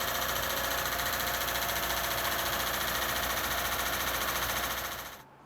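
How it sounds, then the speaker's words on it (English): A Lincoln Town Car engine idles with a loud, even, buzzing racket and a fast ticking, knocking rhythm that carries steadily and then cuts off abruptly at the end. "my Lincoln Town Car I said was bulletproof is making a racket"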